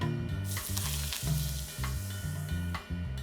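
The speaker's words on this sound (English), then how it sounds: "It should sizzle." Chili, garlic, white onion and scallions hit hot neutral oil in a pan, giving a loud, bright sizzle with stirring clatters and scrapes through the short stretch, no voices.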